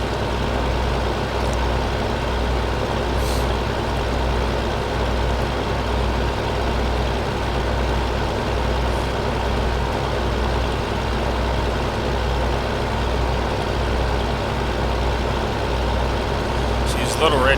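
A truck tractor's engine runs steadily while the vehicle drives and turns around on a course, giving a continuous low rumble throughout with a faint voice in the background.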